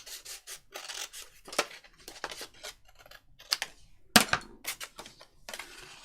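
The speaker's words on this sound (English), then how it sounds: "So I'm just going to cut that side of it." Paper being cut with scissors for a junk journal page, a run of short crisp snips and rasping strokes close up, alone.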